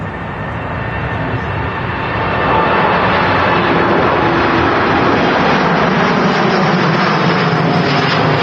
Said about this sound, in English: Sound of the Trent 7000 engines on the Kuwait Airways